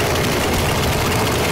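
A chainsaw engine in the sandbox game Garry's Mod runs loud and close, a steady, rough buzzing roar that fills the whole short moment with no speech.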